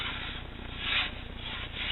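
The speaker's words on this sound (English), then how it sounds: "A little sanding, a little shaping." Sandpaper rubs steadily across a walnut banjo resonator, a close, soft abrasive hiss with gentle swells as the strokes change, heard alone with no talking.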